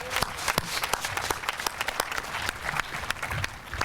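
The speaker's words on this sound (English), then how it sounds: "So another round of applause" An outdoor audience at a groundbreaking ceremony for the Hancher construction claps steadily, a dense crowd of sharp hand claps with no voices.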